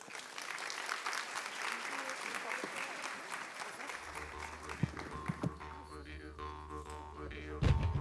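Audience clapping at a Festival Pacto das Pretas creative-industry event, a steady spread of applause that thins out partway through, leaving a few scattered claps and some murmuring in the room.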